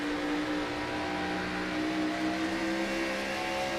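Race cars roaring around the Rockingham circuit during a racing game round, a steady dense engine drone with rising and falling whine that stays loud and continuous throughout.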